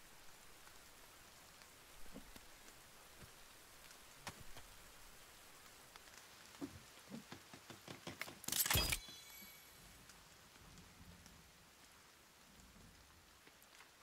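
Soft, steady rain in the video game The Forest patters quietly in the background, broken by one brief, sharp burst of noise partway through.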